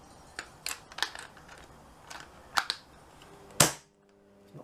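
Several sharp, clicky shots from a Webley LiteW8 air rifle with a silencer fitted, irregularly spaced over a few seconds, the last one loudest and followed by silence, with no talking.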